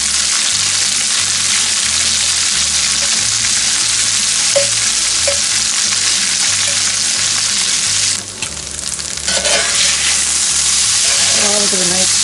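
Spaetzle dumplings frying and browning in a pan, a loud continuous sizzle with brief stirring scrapes partway through.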